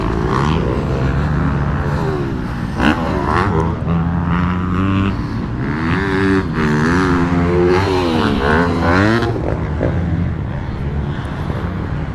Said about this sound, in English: check out what some of the dirt bike guys have going on before the drifting stuff